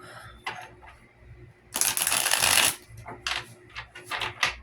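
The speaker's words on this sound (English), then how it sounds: "Allow me to shuffle." Tarot cards being shuffled close up, a few soft riffling passes with one longer, louder burst of flicking cards in the middle and short rustles after, no voices.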